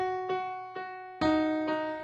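Piano notes played at normal velocity in a beat: five even, bright strikes at a steady pace, the last two fuller and louder, each ringing on clearly with no voice over them.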